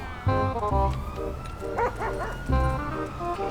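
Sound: dog barking in video game GTA V

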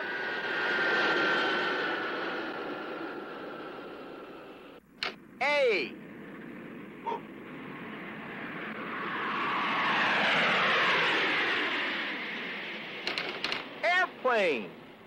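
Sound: airplane flying overhead

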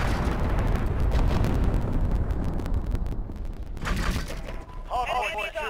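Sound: cruise missile explosions in a video game

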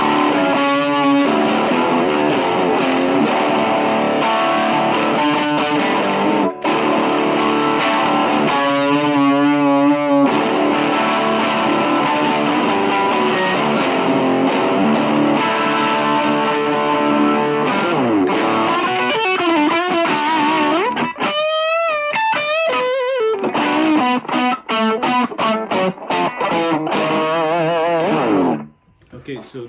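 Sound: Epiphone Les Paul Classic through Omega Drive overdrive pedal

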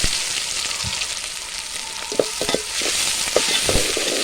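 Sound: crushed shallots sizzling in hot oil

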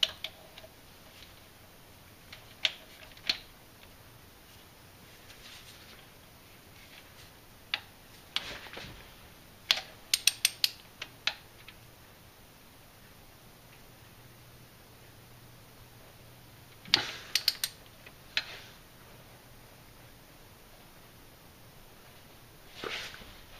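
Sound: torque wrench tightening camshaft sprocket bolt to 90 foot-pounds

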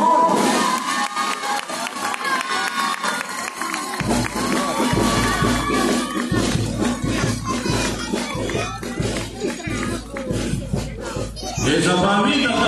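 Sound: crowd applauding a marinera dance couple

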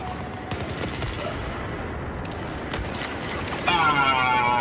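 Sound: gunfire in Battlefield 4 video game

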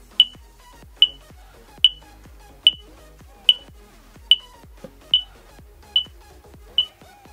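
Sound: Egardia smart home alarm unit beeping

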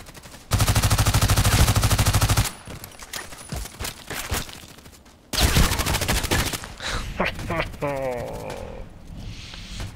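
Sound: gunshots in the video game Contract Wars

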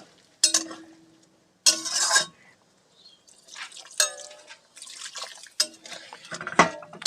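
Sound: hot water poured into egg and potato curry

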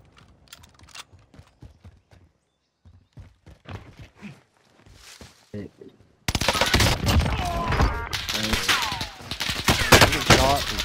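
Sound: gunshots in a video game

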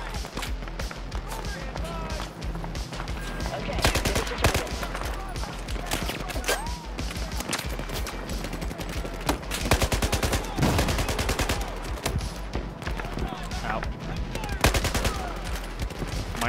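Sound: gunfire in Battlefield 4 video game

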